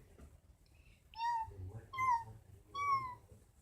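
A kitten meows three times in a row, each call clear and fairly close, over a low background rumble.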